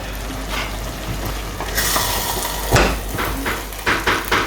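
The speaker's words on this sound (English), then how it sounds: "It's all ready now, and I'm just going to stir on that" Jollof rice is stirred in a pot, with soft scraping and knocking of the spoon against the pot over a faint sizzle, ending in a few quick rhythmic strokes.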